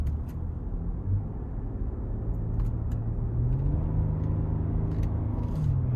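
Steady low engine and road rumble inside a 2025 Nissan Armada SV being driven in manual mode, quiet cabin with a gentle rise in engine drone and a few faint clicks.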